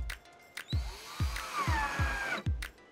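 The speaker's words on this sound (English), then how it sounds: "drill it right in." A power drill drives a Phillips screw into a wooden table leg in a series of short whirring bursts, each opening with a low thump, followed by a longer steady run, all close and clear.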